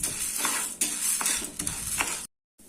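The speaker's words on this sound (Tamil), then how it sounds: "இப்போ இதையும் நம்ம மிதமான தீயில வச்சு நல்லா வறுத்து எடுத்துக்கலாம்." Urad dal and chana dal dry-roasting in a pan over medium heat, a soft sizzling hiss with a few scraping stirs, then an abrupt stop.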